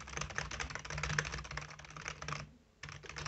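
Typing on an RGB membrane computer keyboard, a dense run of soft rapid key clicks that pauses briefly near the end, then resumes, with a low steady hum beneath.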